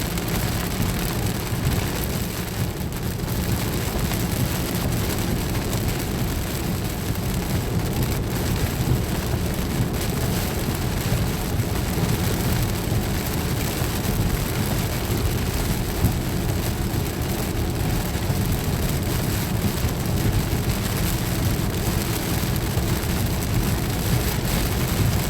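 Heavy rain during an Oklahoma thunderstorm, drumming steadily and loudly on a vehicle, with low rumbling underneath and no voices.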